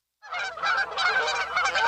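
Geese honking loudly and continuously in a radio advertisement, a dense overlapping flock chorus that starts abruptly and carries on without pause.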